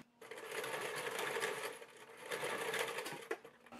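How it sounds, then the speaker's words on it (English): A home sewing machine stitches through two layers of dress fabric while attaching a zipper, running in a steady continuous whirring hum with a rapid needle patter, close and alone. "Grab your sewing machine."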